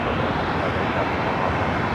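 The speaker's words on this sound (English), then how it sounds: "A330-200 next heavy takeoff on the north side." An Airbus A330-200 heavy jet takes off from the north side at LAX, its engines producing a loud, steady broadband roar that holds evenly throughout with no talk.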